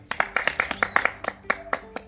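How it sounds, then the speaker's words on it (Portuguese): A small group claps for a woman during a surprise celebration, loose, slightly uneven hand claps that start together and thin out into scattered individual claps, close and clear. "tá merecendo as nossas palmas, não tá?"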